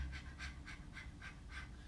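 A person pants like a puppy dog, quick rhythmic breathy huffs about three per second, soft and close, imitating a dog with no talking over it.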